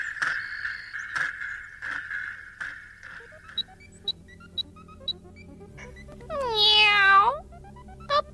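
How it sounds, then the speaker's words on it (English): A cat gives one clear, fairly close meow near the end, after a sequence of faint clicks and a short, steady tone in an otherwise quiet setting. "Meow."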